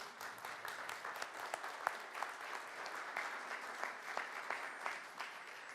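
Audience applause welcomes a guest onto the stage at a Quadrum Fund evening event at the Château de Franc-Warêt, a steady, fairly quiet wash of clapping lasting throughout, with a few sharper individual claps standing out.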